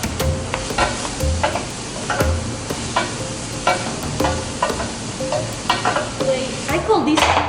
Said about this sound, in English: These onions have to cook. So what I'm going to do is I'm going to grab my wooden spoon.